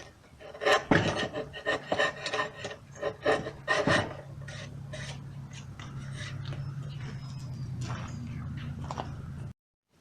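Sandpaper rubbed over the edges of a wooden barrel to round them, with rhythmic rasping strokes at first, then a steady continuous scraping hiss that stops abruptly.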